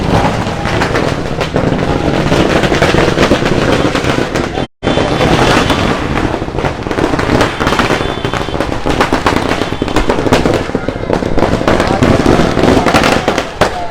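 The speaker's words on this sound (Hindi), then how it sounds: "पटाखा फूटना शुरू हो गया है।" A long string of chatai bomb firecrackers bursts at a street welcome for a former MLA in Hazaribagh, a loud, dense, unbroken crackle with a brief gap, while voices talk underneath.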